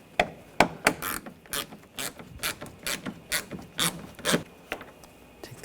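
Ratchet wrench with an 8mm socket backing out front bumper screws on a 2007-2013 BMW X5, a string of sharp, distinct clicks in uneven bursts, close and fairly quiet, with no talking.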